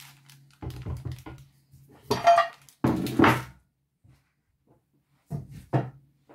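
A baking dish is picked up and set down, giving a few knocks and clatters against a hard surface in separate bursts with quiet gaps, close by, with no talking.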